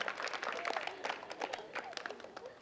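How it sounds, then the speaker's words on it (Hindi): Scattered, uneven clapping from a small audience after a correct quiz answer at a Buddhist vihar gathering in Nagpur, fairly faint and mixed with voices. "और ये बिल्कुल सही जवाब, जोरदार ताली।"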